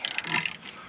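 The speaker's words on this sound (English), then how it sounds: "Now we're going to take our ratchet and that'll help spin the ball joint." A ratchet clicks in a brief, faint burst of rapid metallic ticks while spinning a ball joint on the front suspension of a 2010 Ford Crown Victoria Police Interceptor.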